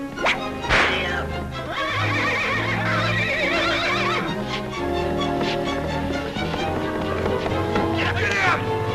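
A cartoon horse neighs and whinnies in a 1939 animated film, loud shrill calls over music, with clattering and whip-like cracks suggesting it is setting off at a run.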